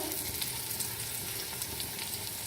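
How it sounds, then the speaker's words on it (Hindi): Onions fry with black cardamom, cloves and cinnamon sticks for dal gosht, giving a constant dense sizzle and hiss, fairly quiet and unbroken, with scattered faint pops. "दाल गोश्त के लिए प्याज़ों को इस तरह फ्राई करते हुए।"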